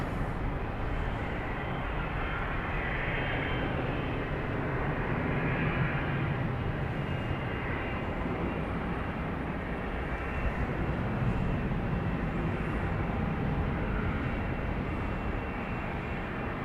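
Southwest jet departing Dallas Love Field at night, a steady broad engine roar that holds level throughout, heard from some distance with no voices.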